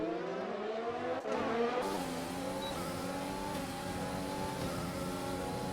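Formula 1 cars in F1 2020 race through a corner at the Austrian circuit, engines whining and shifting pitch together in a continuous, dense roar.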